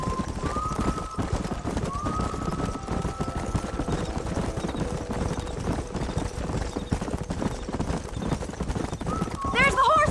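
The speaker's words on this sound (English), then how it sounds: "There's the horses!" Horses gallop with steady clip-clop hoofbeats and an occasional whinny in a Red Dead Redemption western game scene, set under continuous background music and game audio, with voices talking over it near the end.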